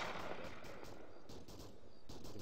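Gunfire in the military video game Arma 3 crackles as repeated sharp shots over a dense, continuous background din, fairly loud and busy, with no clear talking.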